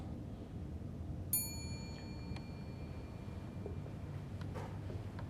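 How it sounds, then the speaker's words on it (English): A single faint metallic ting rings out briefly over a low steady hum, followed by a soft tap, then quiet background noise. "It was almost like a bell, like a half a ring of a bell."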